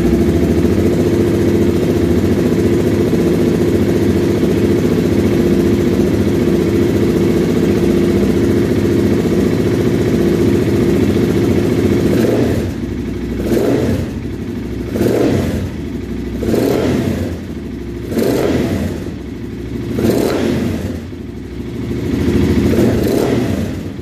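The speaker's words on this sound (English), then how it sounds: "Now I'm going to turn on the bike so you can see how it works." A KTM/Husqvarna 690/701 single-cylinder motorcycle engine idles steadily up close, then revs repeatedly in a series of sharp throttle blips that rise and fall.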